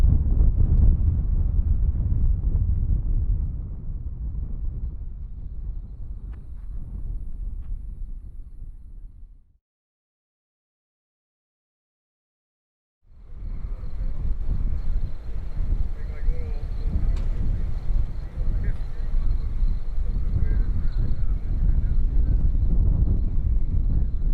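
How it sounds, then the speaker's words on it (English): Heavy wind from the southeast buffets the microphone outdoors at Boca Chica in loud rumbling gusts, cutting to silence for a few seconds before the roaring rush returns. "it's too windy out here for you to really hear me"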